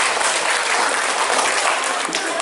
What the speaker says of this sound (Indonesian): Ayo aplaus buat grup yang pada dosis sebelumnya.